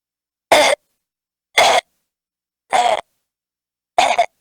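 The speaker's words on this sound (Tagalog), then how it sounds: "Huwag ka munang umubo dyan sa harap ng cellphone" Four short, separate coughs or throat-clearing bursts, evenly spaced about a second apart, each sharp and close with silence between.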